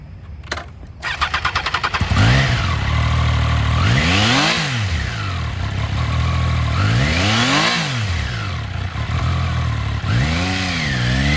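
A used 2022 Triumph Trident 660cc sport triple motorcycle starts with a short crank, then settles to a steady idle broken by four or five rising and falling throttle revs, close and loud, with no talk.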